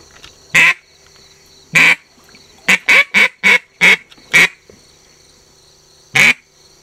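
Ducks at a pond give a string of loud, separate quacks, about nine in all: two spaced calls, then a quick run of six, then one more, with quiet between them.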